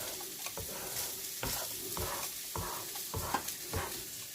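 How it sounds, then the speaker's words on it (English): Eggs scramble in a small pan next to cooking redfish, a steady sizzle broken by regular scraping strokes of a spatula about every half second, close and moderately quiet. "And I just put the eggs up there to cook."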